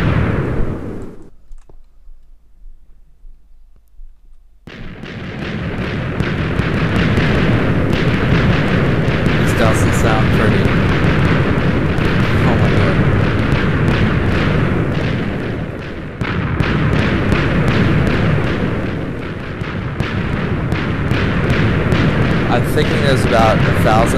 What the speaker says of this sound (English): This should cause a rather large explosion with the mountain being totally destroyed.